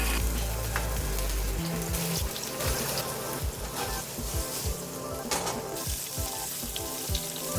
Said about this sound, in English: Let the tofu sit, fry on one side till golden brown